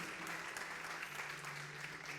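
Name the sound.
applause from church congregation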